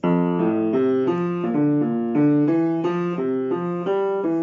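Bari sax, bassoon and clarinet play a counter melody together, with steady, sustained reed tones moving in a lilting, song-like line, clear and close with no talking.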